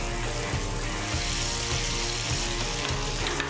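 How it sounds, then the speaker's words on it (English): Halved fresh morel mushrooms sauté in hot olive oil with a loud, continuous, close sizzle and crackle, plus faint scraping and stirring noises beneath. "Sauté the mushroom, hot olive oil."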